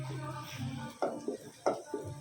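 Maggi noodles and spices are stirred in a pan of hot oil. A few sharp scraping strokes ring out against a low background hum, with no talking.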